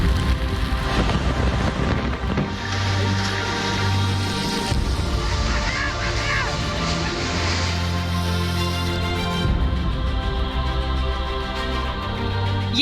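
Heavy rain from Cyclone Nisarga lashes Mumbai, a loud, dense, continuous roar of downpour with gusting wind buffeting the microphone and no voices.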